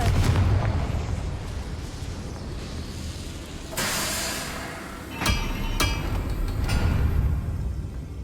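A Confringo blasting spell explodes in Hogwarts Legacy: several loud booming blasts and sharp bursts rise over a steady rumbling background, with no talk.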